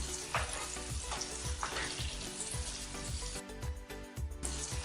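Samosas deep-frying in oil over a lowered gas flame, being turned round and round, make a steady close bubbling sizzle with soft rhythmic stirring knocks throughout, no voices.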